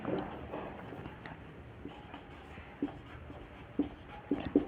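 A pen scratches out notes on paper during a Hindi lecture on gender differences in the skeleton, faint soft strokes with a few sharper taps near the end, no voices.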